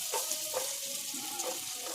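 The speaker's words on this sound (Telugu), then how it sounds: "ఇప్పుడు క్యారెట్ని కొంచెం ఫ్రై అయ్యేదాకా ఫ్రై చేసుకుంటాను" Carrot frying in oil in a pan, a faint, steady sizzle with light, intermittent stirring scrapes.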